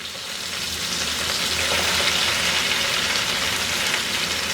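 Young tender spinach leaves sizzle steadily in a hot pan while making Bengali cheese palak, a dense, even frying hiss that swells slightly and holds loud and close throughout, with no voices.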